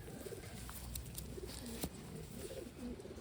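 Wantai pigeons coo in low soft rolling phrases amid steady background noise and occasional clicks. The calls are faint and recur several times.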